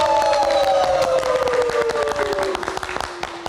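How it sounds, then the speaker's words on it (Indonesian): A studio audience on a live talk show claps and cheers for a guest named Safira, a dense, steady burst of applause with a sustained musical tone gliding downward underneath. "kita berikan tepuk tangan untuk Safira"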